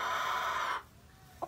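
Gamefowl chickens from Red Game Farm at a breeding yard give a loud, drawn-out call that cuts off abruptly, then one short cluck near the end. The sound is close and there is no talking.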